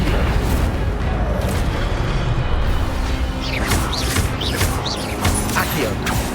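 A fiery spell blast in Hogwarts Legacy, a dense rumbling whoosh of magic flames with scattered crackling bursts, loud and sustained over game ambience.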